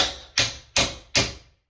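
Channel locks used as a hammer tap an old door hinge pin in a plaster house, giving four sharp metallic knocks in a steady rhythm, close and distinct with brief ringing after each.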